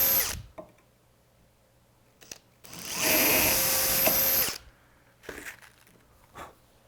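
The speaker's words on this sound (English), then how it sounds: "we'll go ahead and drill both of these and then put a screw in for both." A power drill bores into bumper boards in one steady, loud whining burst of about two seconds, with quieter handling knocks and clatter before and after.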